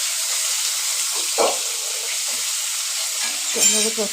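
Fish fries in a pan with a loud, steady sizzling hiss throughout, broken by a couple of brief bursts of crackling as the pieces are moved.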